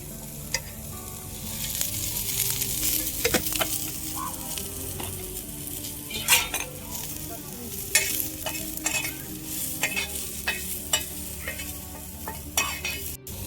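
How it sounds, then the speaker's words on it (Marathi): Sliced onions fry in a little oil on a tava, giving a steady close sizzle broken by repeated sharp scrapes and clinks as they are stirred, with no talking. "तव्यावर थोडस तेल टाकतो तेलानं काय होते लवकर कांदा भाजला जाते"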